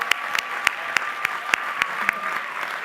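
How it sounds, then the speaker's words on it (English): Sparse, quiet clapping from a small part of an awards-ceremony audience honoring individual honorees, with evenly spaced individual claps over a faint tonal hum and no voices. "Let's give them all one more round of applause."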